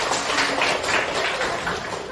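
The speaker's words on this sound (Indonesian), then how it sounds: "kan tepuk tangan buat kalian" Classroom students applaud their classmates in a short burst of dense, fairly loud clapping with no voices over it.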